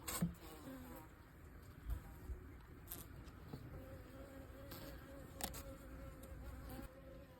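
Honeybees buzz steadily around a homemade styrofoam queen-rearing hive, a close, continuous drone with individual bees passing by the microphone.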